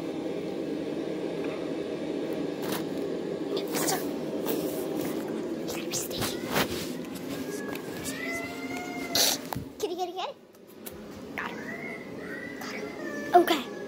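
A cat meows and caterwauls several times while people talk quietly nearby, with a steady background hum throughout and a few sharper cries toward the end.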